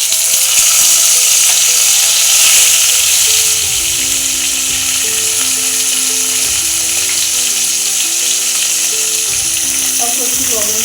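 Tomatoes frying in a pan of hot oil with bay leaves for a vegetable curry, a loud, continuous sizzle and crackle close up, with light stirring clinks near the end.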